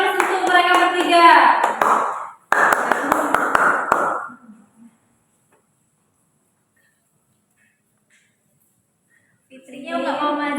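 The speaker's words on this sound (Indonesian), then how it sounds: "Beri aplaus untuk mereka bertiga" Classroom applause for three students called to the front of a biology lesson: a burst of clapping with children's voices over it, a brief pause, more clapping and chatter that fades to silence, then talk resumes.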